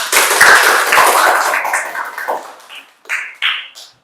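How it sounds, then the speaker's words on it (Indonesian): Students in a classroom burst into applause, a loud dense patter of clapping that thins out into a few scattered claps and taps over about four seconds. "tepuk tangan dulu semuanya"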